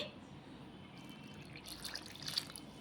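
Water is poured into a semolina (rava) breakfast batter in a home kitchen, a soft trickle and splash that grows a little louder toward the end, heard close and faint with no talking.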